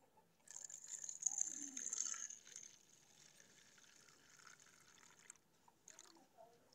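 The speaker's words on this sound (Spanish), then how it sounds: "Yo le voy a echar un poquito de agua con Fabuloso y ya le vamos a echar." Water mixed with Fabuloso cleaner is poured into a baking soda paste, giving a soft splashing pour of about two seconds, then quieter liquid and handling sounds.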